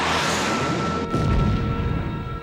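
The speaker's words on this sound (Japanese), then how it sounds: "3番デコイ発射" A decoy launches from a warship in a Gundam SEED space battle scene, a heavy, rumbling blast that swells midway and rolls on as a deep, booming roar.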